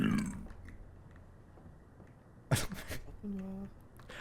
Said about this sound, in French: T'as roté pile au moment du screamer.